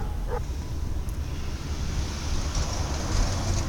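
Ocean surf along the shore at Setúbal washes in a continuous low rumble, with wind buffeting the microphone and no clear speech.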